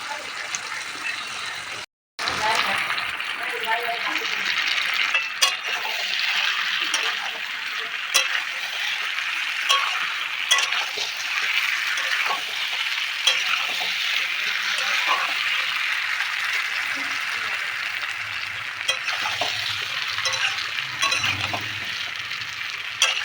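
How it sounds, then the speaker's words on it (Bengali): Mutton being sautéed in a pan for a festive curry: a loud, continuous frying hiss with occasional clinks and stirring, steady throughout after a brief gap near the start. "আপনারা এই রকম সময় দিয়ে মাংস কষাবেন"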